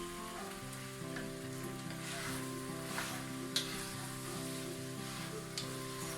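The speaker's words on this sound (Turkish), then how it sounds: "Şöyle bir 5 dakika kadar patateslerimizi de böyle kavuralım arkadaşlar." Potatoes stir-fried in a pan give a steady, soft sizzle that runs the whole way, with a couple of faint clinks from stirring and a low hum underneath.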